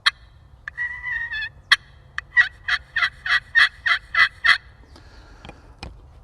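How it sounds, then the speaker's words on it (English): Close slate turkey call: a sharp click and a drawn-out rolling purr, then a run of rhythmic yelping notes, ending with a few scattered clucks. "or I can do a purr and I just pull back across"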